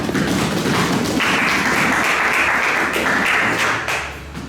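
Church congregation applauding after a Gospel reading: steady, dense clapping from a large group, loud and close, tapering off near the end.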